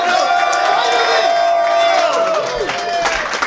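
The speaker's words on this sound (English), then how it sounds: "Round of applause if you'd like to hear from Nick Spanos." Outdoor crowd at a Bitcoin gathering in Satoshi Square, New York, cheering and clapping for Nick Spanos, founder of the Bitcoin Center; loud, steady whoops and applause with voices mixed in throughout.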